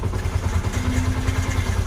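Motorcycle engine running with its faulty starter switch bypassed, a steady close-up idle with a low rhythmic thrum and no voices.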